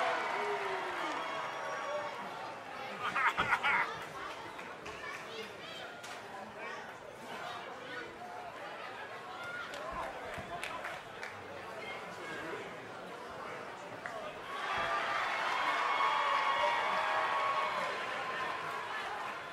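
Arena crowd in the WWE 2K20 wrestling video game, a steady murmur of chatter with swells of cheering, one near the start and a louder, longer one toward the end, while commentators talk over it.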